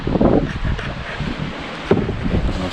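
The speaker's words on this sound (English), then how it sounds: "Jumping on big gusts like that." Gusts of wind buffeting the microphone on a kayak on a creek, rumbling and swelling with rustling and a soft thump midway.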